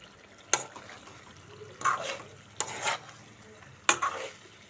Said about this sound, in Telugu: చికెన్ ఫ్రై చేస్తున్నానండి